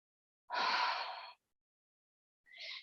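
Slow, deep breaths during a mindful movement session: one long, close exhale-like breath, a pause of silence, then the start of another breath.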